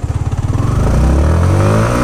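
A Yamaha MT-15 motorcycle pulls away hard in first gear, its single-cylinder exhaust starting as rapid, pulsing putts and climbing into a loud, smooth rising rev close by, with no one talking.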